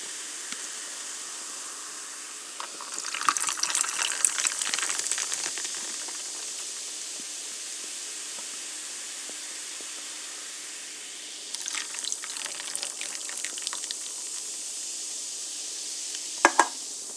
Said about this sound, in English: you add in the cream soda crush after you open up the can